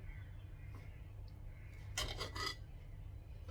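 Cooked mushroom biryani being stirred in a pot, giving a brief scraping, rasping burst of spoon against metal for about half a second, moderately close, over a low steady background hum with no talking.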